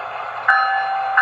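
Bachmann Charger model locomotive's sound decoder rings its bell in two brief electronic strikes, a steady engine hum running underneath, close and clear with no talking.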